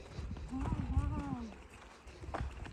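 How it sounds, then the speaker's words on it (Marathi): White horses in a stable area at a film studio, their hooves clip-clopping amid the animals' low sounds, with someone talking over them throughout. "आता आपण यांच्या घोड्यांच्या इकडे आलेलो आहे"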